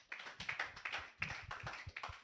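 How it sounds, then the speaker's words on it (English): Small group clapping after a personal capstone presentation, a handful of distinct, uneven claps in a quiet room, sparse and fairly faint, with no voices. "Let's clap for Magdalene"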